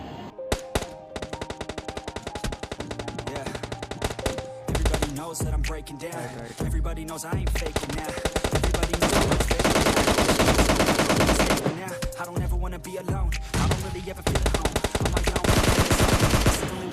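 Rapid automatic gunfire rings out in PUBG Mobile Lite gameplay, with sustained bursts that barely pause across the whole stretch, loud and close, backed by game sound and background music.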